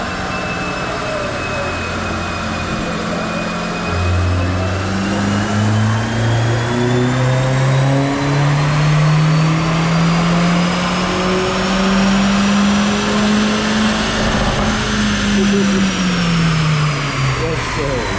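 A car on a chassis dyno pulls hard through fourth gear, the engine note rising steadily over about ten seconds before easing off, loud and close, with people talking over it.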